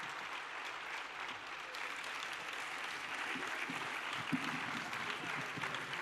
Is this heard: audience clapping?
yes